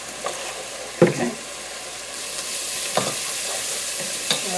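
Kielbasa and cabbage with powdered garlic and onion cooking in a pan, giving a steady close sizzle broken by a few stirring scrapes.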